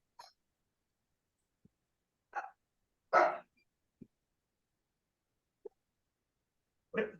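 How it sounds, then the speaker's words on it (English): A small dog gives several short, sharp yips and barks, spaced irregularly with quiet gaps between them, fairly near and isolated. "There's my little dog barking."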